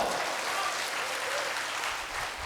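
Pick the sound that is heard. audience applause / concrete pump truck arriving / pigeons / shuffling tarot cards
audience applause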